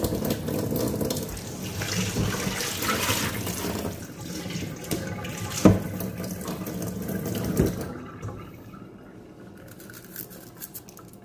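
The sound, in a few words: hot water being poured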